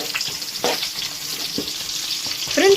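Sliced bitter gourd fries with dried chilli in a pan as onion is stirred in, a close steady sizzle broken by scraping stirs and a sharper hiss near the end.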